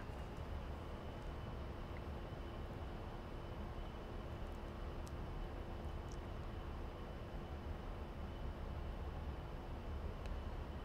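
A-10C jet taking off in the DCS flight simulator, a steady, broadband engine roar with a faint constant whine, low in level and unchanging throughout with no talk.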